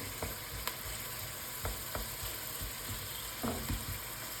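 Pork ribs sizzle steadily in a pan as tomatoes are added and stirred, with a few soft clacks from a utensil over the continuous frying hiss.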